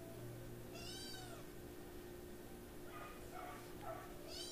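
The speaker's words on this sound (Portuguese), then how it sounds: "A Pérola resolveu miar agora, na hora do vídeo" A pet cat meows a few times at a moderate distance, its calls rising over a steady low household hum while someone works on a craft project nearby.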